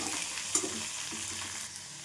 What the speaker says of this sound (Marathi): याच्यामध्येच मी कढीपत्ता पण घालते आणि छान परतून घेते